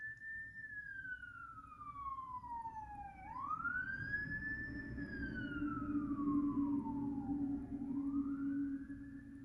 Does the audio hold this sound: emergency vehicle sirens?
yes